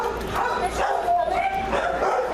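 A dog at an animal shelter gives short yips and whimpering barks under nearby conversation, the calls recurring through the brief stretch.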